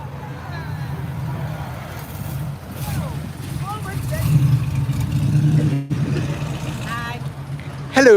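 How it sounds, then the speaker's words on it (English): A car driving around a wet skid pad produces a continuous engine drone that rises and falls in pitch as it revs, heard at moderate distance over constant background noise. "there goes Katie finishing off her wet skid pad, and Tomo hitting the skid pad"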